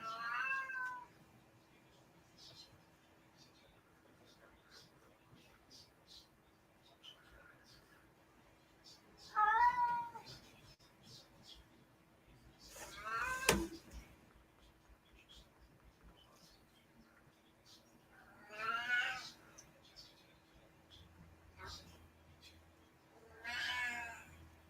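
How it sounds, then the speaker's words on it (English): Domestic cat whining and meowing in separate drawn-out meows spaced several seconds apart across a quiet room, with a low steady hum behind and a sharp knock near the middle. "you guys have to listen to my cat whine now"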